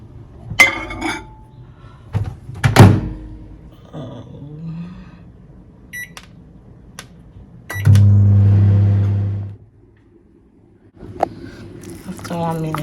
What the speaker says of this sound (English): I will just microwave it for a minute.